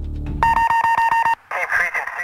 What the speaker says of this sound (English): stumbled to a phone and dialed 911